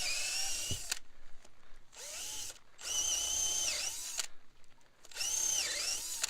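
Three bursts of a DeWalt cordless drill whining and bogging down as it bores into wet wood, each a couple of seconds long with short pauses between, loud and close.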